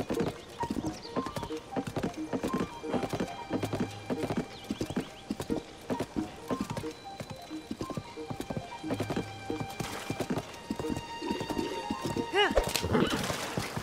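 Clip-clop of a horse's hooves at a riding pace in the video game Zelda: Tears of the Kingdom, a quick steady rhythm with occasional whinnies and snorts, game effects and chimes ringing toward the end.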